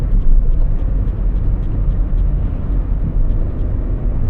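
A Vauxhall Corsa with a faulty exhaust drives in gear, producing a loud, continuous low engine and exhaust rumble heard from inside the cabin without speech.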